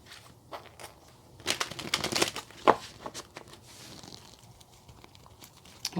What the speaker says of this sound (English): I do shuffle the cards before the readings